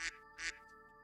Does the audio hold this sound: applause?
no